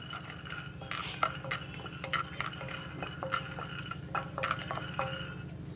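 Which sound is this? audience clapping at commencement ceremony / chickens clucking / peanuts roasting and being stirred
peanuts roasting and being stirred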